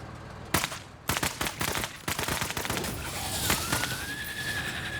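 Rifle fire in the Menace video game during a night mission, a rapid run of sharp cracks clustered in the first two seconds, then sparser shots over a steady bed of battle noise and a rising whine.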